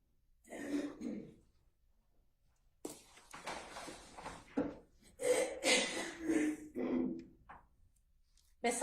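Several throaty coughs and throat clearings in a courtroom during a trial, in short bursts separated by pauses, fairly close and moderately loud, with no talking.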